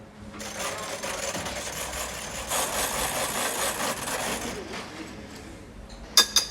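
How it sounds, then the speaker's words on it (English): Egg whites are whisked in a bowl with an electric mixer, giving a steady buzzing whir that rises and falls slightly for several seconds before a couple of sharp clinks at the end. "4 egg whites. I'm going to whisk them."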